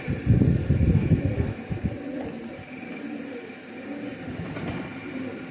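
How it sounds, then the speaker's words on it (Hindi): Low, soft cooing of high flyer pigeons mixed with rustling and a steady background hum, loudest at the start and fading to a quieter drone. "अब बात करें फ्लाइंग की तो माशाल्लाह ये हैं हाई फ्लायर कबूतर।"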